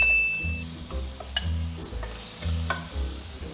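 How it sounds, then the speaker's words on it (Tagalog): Chicken breast fillet sautés in a pan, with soft sizzling broken by regular scraping and stirring strokes about once a second, close and fairly quiet. "igigisa mo muna yung chicken para mawala yung lansa"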